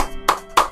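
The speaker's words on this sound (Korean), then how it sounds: "박수." Two quick, bright applause bursts from a sound effect in the video game MapleStory, sharp and close, about a third of a second apart, with nothing else sounding.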